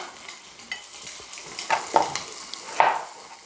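Half an onion sautés in a pan for a soybean paste stew, a steady sizzle broken by a few louder stirring scrapes and clacks toward the end.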